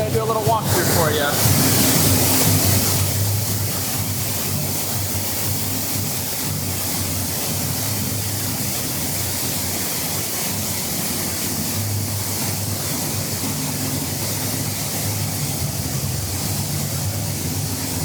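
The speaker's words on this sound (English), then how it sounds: "I was not going to take the camera through that giant waterfall" A giant waterfall at Volcano Bay water park roars in a loud, steady rush of crashing water that fills the space from start to finish, with faint voices in the background.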